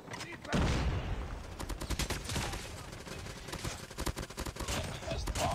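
Automatic gunfire in the mobile game Call of Duty Mobile crackles in rapid, dense bursts, loud and close throughout with almost no gaps.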